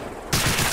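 A dense, loud blast of machine gun fire in the World War II shooter Medal of Honor: Allied Assault cuts in abruptly after a quiet moment and roars on as a continuous burst.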